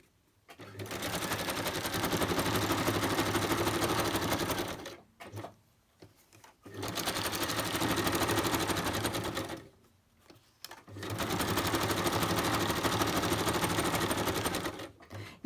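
A sewing machine stitching through napkin collage paper, running in three long steady bursts of rapid needle rattle separated by short pauses, close and loud with nothing else over it.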